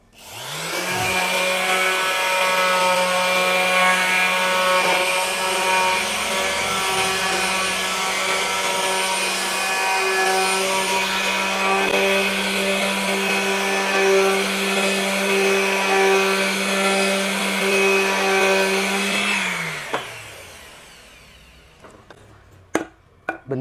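A Bosch GSS 140 orbital sander with P120 sandpaper sanding a wooden block gives a steady, loud whine with a constant hum for about twenty seconds, then winds down and stops, leaving a few faint clicks.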